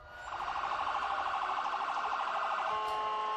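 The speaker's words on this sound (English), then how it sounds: "There's the ambulance." An ambulance siren wailing at a wrestling stretcher match, a loud, steady cycling tone that holds for several seconds with no talk over it.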